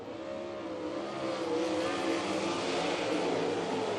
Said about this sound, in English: Dylan Westbrook puts his foot to the floor, and you could hear the horsepower.